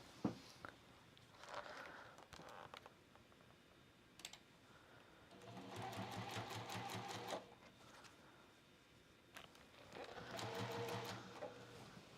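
Sewing machine stitching around the outside of a folded star quilt block, several short bursts of rapid mechanical whirring separated by quiet pauses, fairly faint.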